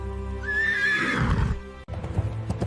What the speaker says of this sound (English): When no tamer could control the legendary Bucephalus, Alexander realized the horse feared its own shadow.